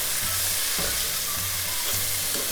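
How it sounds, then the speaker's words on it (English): Chickpeas fry in a pan for a Punjabi chole curry, giving a steady close sizzle with a few soft stirring scrapes. "Now we can add the garbanzo beans, chickpeas or white chana."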